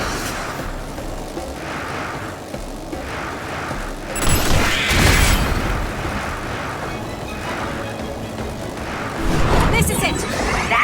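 Explosions in the action video game Scarlet Nexus: a couple of loud broadband blasts, one near the middle and one near the end, over continuous game noise with character voices talking.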